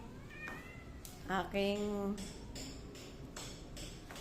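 A cat gives a few meows, one short and then a longer drawn-out cry, close by at feeding time, with light clinking and a quiet voice in the background.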